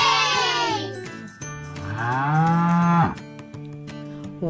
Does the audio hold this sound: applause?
no